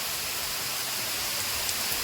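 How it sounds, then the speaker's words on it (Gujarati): Heavy rain pours at a hillside cave site, a dense, even hiss of falling water that holds steady without pause and without speech. "જોરદાર વરસાદ આવે છે અત્યારે"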